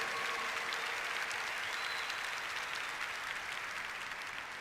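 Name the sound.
congregation applauding in church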